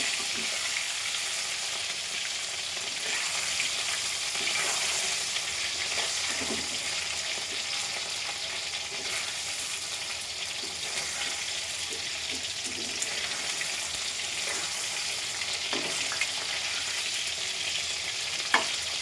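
Food frying in a pan with ground nuts, raisins and melon seeds, a continuous even sizzle lasting throughout, with faint occasional clicks of stirring.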